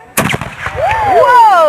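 A black powder gun fires at a Canada Day demonstration in Niagara-on-the-Lake: one loud, close blast with a sharp attack and a rolling tail, followed by voices and a rising whistle-like cry.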